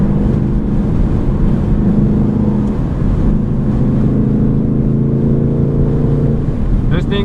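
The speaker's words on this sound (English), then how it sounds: "Right now I'm driving on my fourth gear." A 2020 Ford Mustang 5.0 V8 with a muffler delete cruising at night in fourth gear, its loud, steady, deep exhaust drone filling the cabin continuously with a slight shift in pitch near the end.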